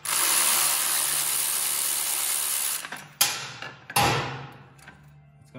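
A wrench cracks loose the banjo bolt and backs out the mounting screws on the rear brake master cylinder of a BMW K1200LT motorcycle, with a sustained ratcheting rasp, then a few sharp clicks and a metallic clatter.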